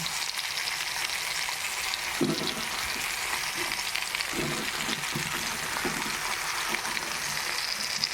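Eggplant pieces coated in salt, turmeric and mustard oil fry in a wok alongside a tomato, a continuous close sizzle broken by soft low bumps and spatters, with no voices.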